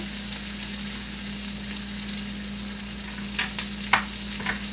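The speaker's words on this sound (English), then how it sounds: "So I got the onions going in there, and all the other hard-to-cook vegetables in there" Onions and hard-to-cook vegetables fry in a pan for an Asian-style dish, a continuous loud hiss of sizzling oil with a few brief clinks and stirring sounds near the end, close up and without talking.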